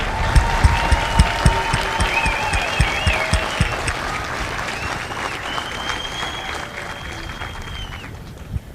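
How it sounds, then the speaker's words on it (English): Crowd applause at a U.S. Marine Corps recruit graduation at MCRD San Diego, honoring drill instructors and families: broad outdoor clapping under a faint whistling tone, loud at first and gradually thinning. "please join me for a well-deserved round of applause for the drill instructors and families of Bravo"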